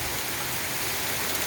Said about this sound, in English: Look at the water sloshing up against walls and things.